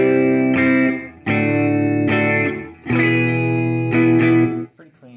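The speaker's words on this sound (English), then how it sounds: "So here's just my dry guitar signal." Clean, dry electric guitar with only a touch of reverb plays a handful of ringing chords, each struck firmly and left to sustain before the next, ending with a few quieter plucked notes.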